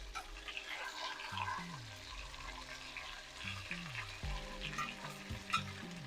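Beef short ribs sear with garlic in a hot pan, a steady close sizzle with occasional stirring and flipping scrapes, while music plays underneath throughout.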